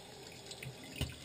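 Water runs briefly and faintly from a bathroom faucet, with a short splashing burst near the end.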